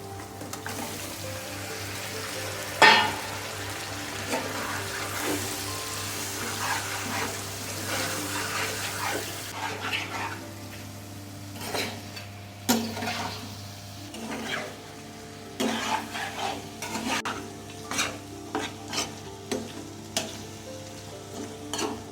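Chicken and potato pieces are dropped into a spice paste cooked in oil, giving a sizzling fry near at hand, then scraping, clattering stirring strokes in an uneven rhythm.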